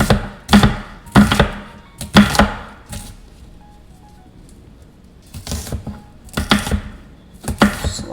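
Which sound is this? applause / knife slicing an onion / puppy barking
knife slicing an onion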